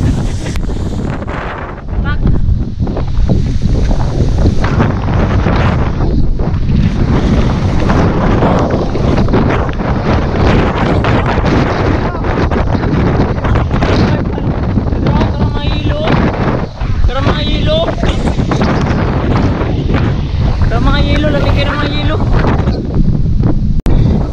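Powerful typhoon wind buffets the microphone in a continuous loud roar, with voices talking intermittently through the gusts.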